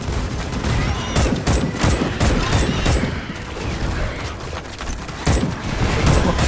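Rapid gunfire from a teammate in Starship Troopers: Extermination, a loud continuous fusillade of close shots with sharp bursts repeating throughout.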